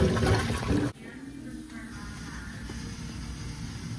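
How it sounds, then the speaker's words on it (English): A loud rush of water pours into a grease trap container for about a second, then drops to a faint trickle and low background hum. "The water is able to enter the container easily now."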